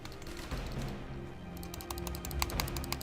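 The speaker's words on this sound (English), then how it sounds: "I don't know if you guys can hear me clicking" Rapid mouse clicking during a BattleTech game session, a quick irregular series of sharp clicks that grows denser toward the end, heard close over a steady background hum.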